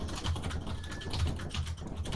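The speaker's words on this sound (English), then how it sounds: "who the fuck typing so hard?" Hard, rapid typing on a computer keyboard during a Lethal Company game session, a steady run of sharp key clacks filling the whole stretch without pause, close and fairly loud with no talking.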